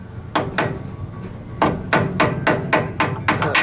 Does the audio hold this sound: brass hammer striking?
yes